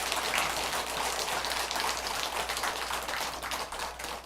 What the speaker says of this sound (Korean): 막상 또 박수 치시니까 좀 멋쩍네요